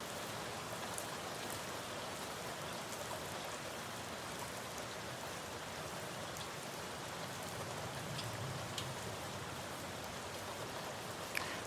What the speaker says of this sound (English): I can go ahead and sample this rain real quick